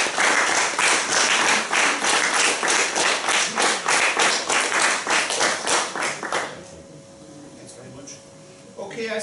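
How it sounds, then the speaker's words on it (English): Audience applause at a junior captain's prize event at a golf club, a dense run of close clapping lasting several seconds before fading out into room quiet. "They deserve a big round of applause for all their effort."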